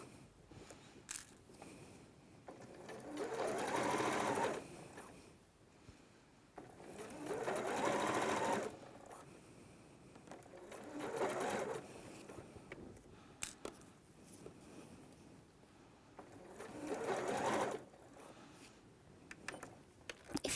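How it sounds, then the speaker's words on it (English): Domestic sewing machine stitching a fabric pouch with wadding close to a zipper, running in several steady whirring bursts separated by short pauses, close and fairly quiet. "And then sew close to your zipper."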